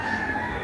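Faint and distant, a rooster among fighting cocks being readied for a stag derby holds a short steady crow over a low, continuous background hum.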